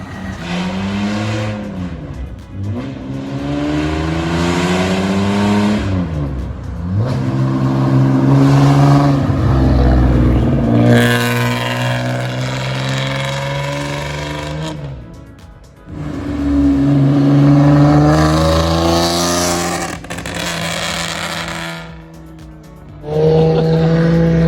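A Toyota Cresta street racer revs hard while its tires spin and scrabble, the engine running rough. The note rises and falls in long loud surges with fluctuating pitch, and nobody speaks over it.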